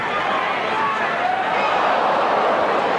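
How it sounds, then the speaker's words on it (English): Dense, steady roar of a packed stadium crowd at a 1995 rugby league match between the Sydney Bulldogs and Canberra Raiders, an unbroken wash of massed voices holding level throughout. "This crowd has swollen quite considerably"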